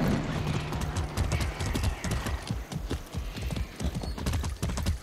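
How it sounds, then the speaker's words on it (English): Hooves of a ridden horse in the video game Far Cry 6, a steady galloping clip-clop pattern of dense repeated hoofbeats, close and prominent, with faint background ambience. "Just riding my horse."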